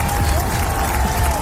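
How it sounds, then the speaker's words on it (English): Applause and cheering for a podcast guest from an audience, a dense continuous roar of clapping and crowd noise at steady loudness throughout, with a faint tonal hum underneath. "round of applause for greatness"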